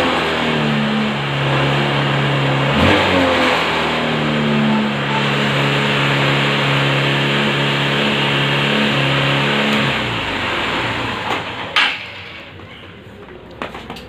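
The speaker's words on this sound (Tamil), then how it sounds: "இந்தமாதிரி ரேஸ் ஆகினே தான் இருக்கும்" A motorcycle engine with an accelerator fault races and revs high continuously for about ten seconds, loud and close, then drops away to a few clunks and quieter mechanical noise.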